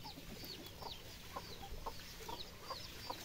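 Chickens clucking inside a coop, a series of soft, faint, evenly spaced clucks repeating over a low background hiss, with no talking.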